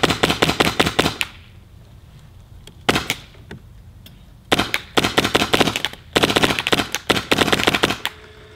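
Paintball marker fitted with an Empire Freak barrel firing rapid strings of sharp, close pops in several bursts separated by short quiet gaps.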